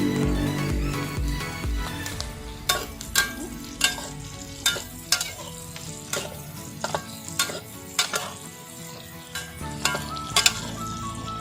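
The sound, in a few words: sautéing garlic and onion in a clay pot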